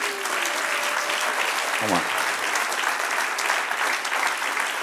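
A church congregation applauds steadily as a dense, even wash of many hands, with a faint voice briefly audible beneath it.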